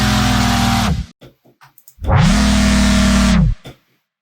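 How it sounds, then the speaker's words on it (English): A heavy, distorted synthesized bass recreating Skrillex's 'While You Were Sleeping (VIP)' sounds in two long, loud growling blasts, separated by a run of short clipped stabs and brief gaps. "We made the sound from Skrillex Visual Riot while you were sleeping."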